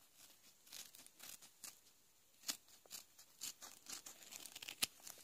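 Handmade paper miniature Polly Pocket house roof being opened, with soft crinkling and rustling paper handling in quick irregular bursts, close and quiet, with no talk.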